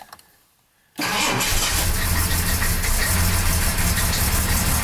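After a quiet second, a classic car engine cranks and catches, then settles into a loud, steady idle with a low rumble.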